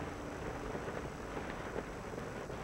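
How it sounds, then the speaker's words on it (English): Steady rain falling on a house roof, a soft, even patter with no voices. "Not just any rain."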